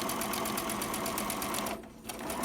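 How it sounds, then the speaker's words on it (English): A sewing machine stitching a Christmas appliqué pillow cover, running in a close, fast steady whir with a brief pause before resuming, no voices. "when I get to the other edge, I'm going to back stitch again."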